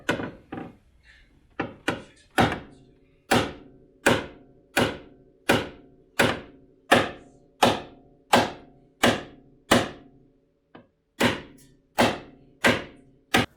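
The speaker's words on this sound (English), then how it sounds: "we're about to put a towel over it and start banging" Steady, heavy thuds as someone bangs on a Honda CRX engine part through a towel during an engine swap, each muffled blow evenly spaced with a short decay, about a dozen in a row, close and loud.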